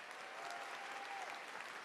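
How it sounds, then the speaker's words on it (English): Theatre audience at a season announcement applauding sponsors, a broad, steady wash of clapping heard at a distance and fairly faint. "let's give them all a round of applause"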